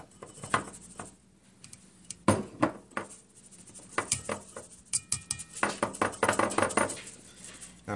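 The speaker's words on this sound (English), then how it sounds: "Now I'm going to strain the flour out." Flour strained through a sieve for watermelon cake batter, producing quick metallic taps and clinks of the sieve against a bowl in uneven bursts, close and fairly quiet.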